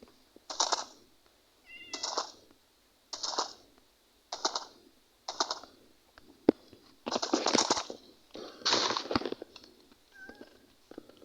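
A cat in Minecraft meows repeatedly, about eight short, evenly spaced calls, with faint clicking taps between them.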